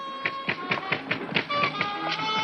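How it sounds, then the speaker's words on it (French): Knocking on a door in a crime and espionage comedy series, a rapid run of about ten sharp raps in an even, insistent rhythm, close and clear. "vous allez frapper à cette porte sans arrêt"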